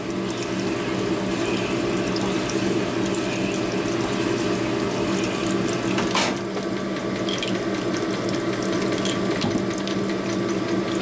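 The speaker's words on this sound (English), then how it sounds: "Keep honing until it goes in with coarse stone." Valve guide in a 1977 Harley-Davidson XLCR 1000cc Ironhead engine being honed with a coarse stone, a continuous whirring, rattling mechanical grind at steady loudness with no speech.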